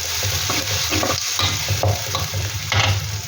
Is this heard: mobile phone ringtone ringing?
no